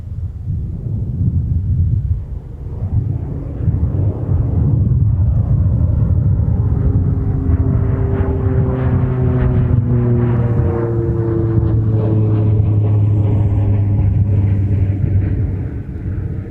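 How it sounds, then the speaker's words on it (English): A twin propeller-driven Beechcraft 1900E takes off from a windy airport runway, its loud, steady engine roar with a rising propeller whine building and holding for the whole stretch, buffeted by wind on the microphone. "we've got one of the Marvin Windows Beechcraft 1900Es. This is a twin propeller-driven aircraft."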